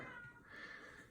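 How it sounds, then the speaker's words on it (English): A cat meows in the background of an indoor room, a steady drawn-out call lasting about a second, fairly faint and distant. "Yeah, you may hear a cat in the background."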